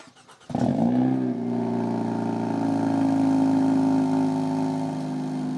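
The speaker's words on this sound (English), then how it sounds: "So you hear that ignition turning on, and then you hear the car cranking up because it's a cold start" A car's ignition clicks on and the engine cranks into a cold start, then settles into a loud, steady exhaust rumble that holds close and strong to the end.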